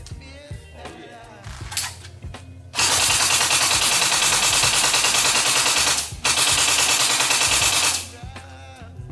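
An E&C Colt M4A1 carbine gel blaster on a 7-volt battery fires on an outdoor range in two long, loud continuous full-auto bursts, separated by a brief pause, with a few quieter clicks and handling noises before and after.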